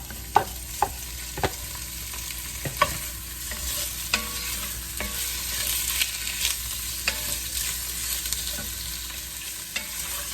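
Sliced sausage links fry in olive oil in a hot Dutch oven, giving a continuous close sizzle punctuated by sharp clacks and scrapes of a utensil stirring against the pot.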